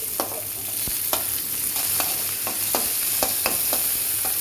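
Coriander leaves fry in a pan for green chili chutney, a steady sizzle punctuated by a series of sharp spatula scrapes and taps roughly every half second, close up with no voices.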